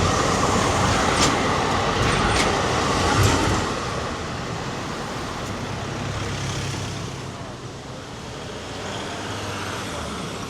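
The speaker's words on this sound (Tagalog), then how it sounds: "Ito na makita yung train" A train in Milan rumbles close by with a steady broadband roar, loudest in the first few seconds and then easing to a lower running rumble, with faint brake-like hiss at the start.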